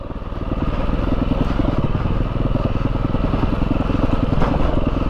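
A 2022 Beta 430 RR-S dirt bike engine idles up close with a steady, rapid low putter, holding an even rhythm throughout.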